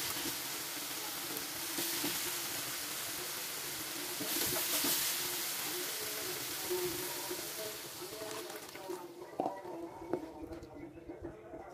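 Salted fish frying in a pan with tomatoes and chili, a dense steady sizzle with spatula stirring scrapes, loud and close, fading toward a quieter crackle at the end.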